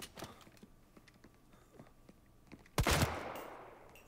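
Gunshots sound in the church scene of the video game Mafia: Definitive Edition, with faint clicks and thuds early on and then one loud, close blast that rings out and decays.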